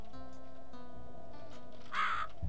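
A crow-like bird attacks in the Clonk Rage game, letting out one loud harsh caw near the end over a quiet, steady game background.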